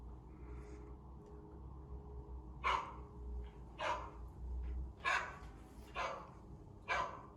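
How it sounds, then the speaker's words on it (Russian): A dog barks five times at irregular intervals, sharp and fairly close, over a low steady background hum with no voices. "Собака."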